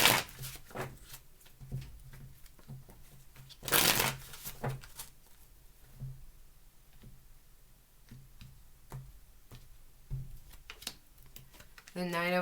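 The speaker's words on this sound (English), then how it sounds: "Two more shuffles, please." A deck of tarot cards is shuffled by hand, with soft riffling and crisp clicking snaps repeating irregularly, and a louder burst of card flutter partway through.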